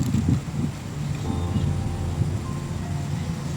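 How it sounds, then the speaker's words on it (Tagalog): Strong wind buffeting the microphone outdoors near a burning cold storage building in Davao City, a steady low roar with gusty rumble and a faint droning tone beneath. "pero kusog pa kayong hangin strong wind warning"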